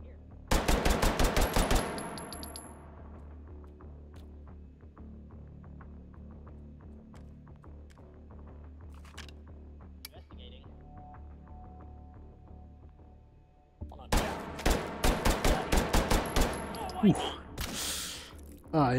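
Rapid automatic gunfire from armor-piercing incendiary rounds in a VR shooter, loud dense bursts at the start and again near the end, separated by a quieter stretch of scattered shots and low hum.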